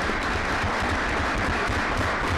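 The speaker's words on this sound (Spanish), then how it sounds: "pues les podemos dar un aplauso a Ana y Criseida" A crowd at a talk on sexual dissidence policy in Latin America gives Ana and Criseida a round of applause. The clapping is loud, thick and continuous, filling the whole moment.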